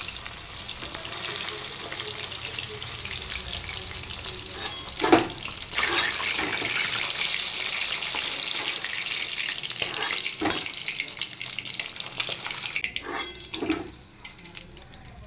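Pabda and parshe fish frying in oil in a pan, a steady broad sizzle running throughout with a few sharper clatters and bursts from the utensil along the way, no voices.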